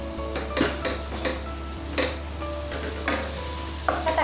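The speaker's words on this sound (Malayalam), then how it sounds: "നമുക്ക് പാത്രം ഒന്ന് തുറന്ന് ഒന്ന് മിക്സ് ചെയ്ത് കൊടുക്കാം." Ripe tomatoes cooking for a Kerala-style chicken curry are stirred in a pot, with intermittent scraping and metallic clinks of a spoon over a soft sizzle and a low steady hum.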